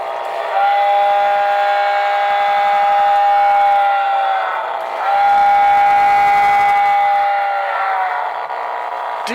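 A model train whistle sounds two long, steady tones, each held a few seconds with a short gap between, over faint background hiss.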